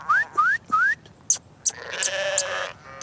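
A flock of sheep tended by a shepherd bleats in several overlapping calls after three rising whistles, the bleats close and fairly loud.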